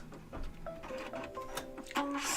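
Embroidery machine running the placement stitch for a puffy foam heart on a Valentine's Day mug rug, a steady mechanical whir with tonal motor hums and clicking, close and fairly quiet, with no talking.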